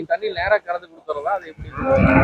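A cow moos on a farm, giving several drawn-out, throaty lows close by in quick succession, followed by a rising burst of noise at the end.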